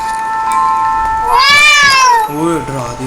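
A cat in the Grandma's House video game gives one loud, drawn-out meow that rises and falls, followed by a shorter mewing cry, close and clear over a faint steady background tone.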